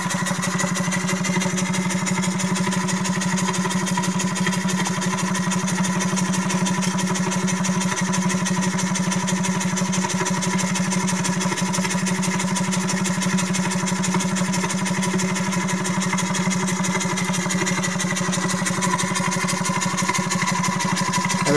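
A small Piguet steam engine with 50 mm bore and stroke runs at a steady, even pace, a continuous close mechanical hum with fine rapid pulsing and no pauses.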